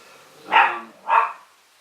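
A dog in a woodworking workshop gives two sharp, fairly loud barks about half a second apart, followed by quiet.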